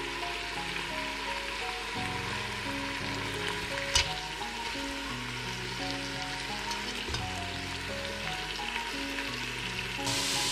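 Meat sizzles steadily in a frying pan while browning on all sides for a Greek red-sauce beef stew with orzo, a dense continuous hiss with one sharp clink near the middle.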